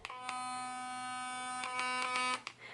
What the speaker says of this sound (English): And then we've got an electric toothbrush.